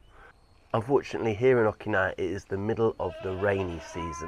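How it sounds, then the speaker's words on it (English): Goats bleat from a neighbouring goat farm in Okinawa during the rainy season, their calls half-buried beneath someone talking steadily and close to the microphone. "Excuse the goats, we've got a goat farm next door"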